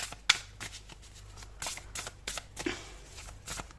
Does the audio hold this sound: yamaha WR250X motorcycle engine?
no